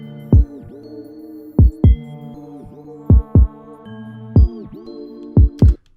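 An FL Studio kick drum pattern at constant velocity, roughly ten deep punchy thumps in a syncopated groove over a steady sustained synth pad, every hit about equally loud, with no voices.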